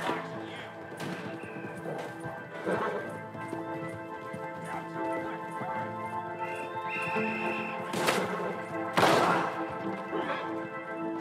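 Horse hooves clip-clopping in Red Dead Redemption 2, with scattered sharp impacts and a couple of louder crashes over a steady tonal game soundtrack, moderately loud and without clear talk.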